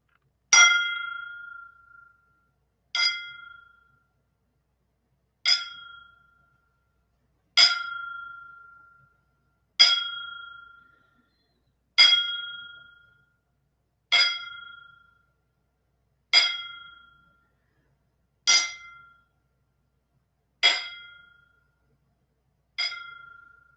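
A wrestling tribute bell rings out eleven times in a slow, even count, each clear metallic strike ringing bright and decaying to silence before the next.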